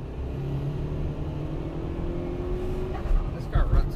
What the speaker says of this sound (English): this is a classic 4G63 sound. I'll give you a little.